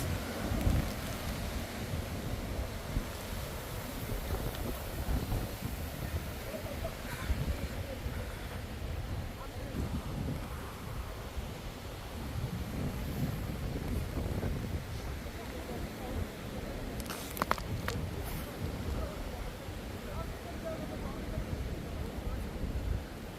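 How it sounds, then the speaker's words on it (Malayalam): Wind and rain sweep across a steep mountain off-road trail at Chekuthan Mala near Kattappana, where a jeep is being hauled uphill. A continuous, blustery roar buffets the microphone throughout, with occasional sharper gusts. "കാറ്റും മഴയും ഓ grand scene"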